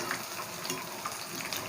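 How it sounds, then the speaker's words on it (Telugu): Cheese balls, or cheese fritters, frying in hot oil, heard as a soft, even bubbling sizzle that stays fairly faint over a brief moment with no voices. "చాలా త్వరగానే ఫ్రై అయిపోతాయి"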